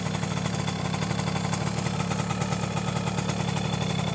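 A 1973 Suzuki RV90 VanVan with its original 90cc two-stroke engine idles close by, a steady rapid pulsing putter at even loudness with no voices.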